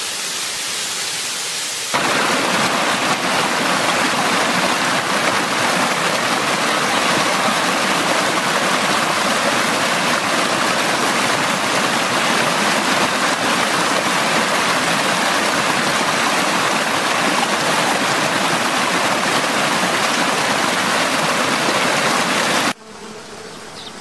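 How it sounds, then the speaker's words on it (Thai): Small waterfall flowing, a dense, steady rushing of water that stays loud and even for most of the stretch, starting and ending abruptly with quieter ambience at each end, and no voices. "น้ำตกนี้แม่งแจ็คพอตนะ"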